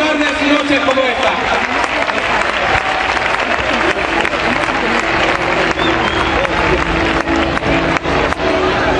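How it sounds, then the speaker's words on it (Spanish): Loud, sustained applause from an audience at a 2012 Sanse award ceremony, with dense clapping carrying on for around nine seconds and crowd voices underneath. "Fuerte el aplauso para este chaval"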